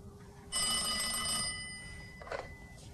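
Telephone bell ringing in a French-dubbed film, one loud electronic ring lasting about a second, followed by a fainter fading tone and a soft click.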